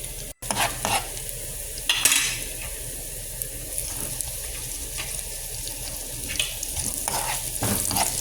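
Onion sautéing with garlic in a pan for a squid dish, a steady close sizzle with occasional scraping stirs and clanks of the utensil against the pan, no talking.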